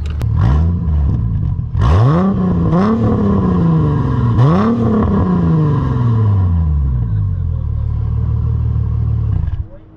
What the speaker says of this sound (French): Merci beaucoup, Mary, de m'avoir fait faire une ride dans ta Mustang 2007 convertible